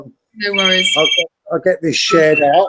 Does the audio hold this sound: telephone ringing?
yes